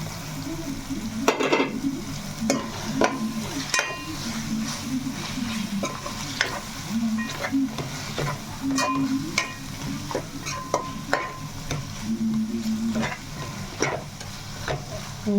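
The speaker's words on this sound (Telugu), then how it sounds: "చక్కగా ఇలా వేగుతుందిగా మటన్" Mutton pieces sizzle in a hot pan for biryani, a steady frying crackle punctuated by repeated scrapes and clinks of a ladle stirring the meat against the pot.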